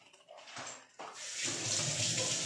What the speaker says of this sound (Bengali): জলটা দেব।